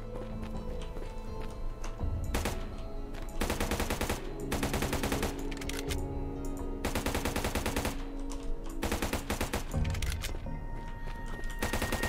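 Gunfire from blank cartridges in the survival game CryoFall: rapid bursts of loud, crackling shots in repeated volleys, separated by short pauses, with no talking.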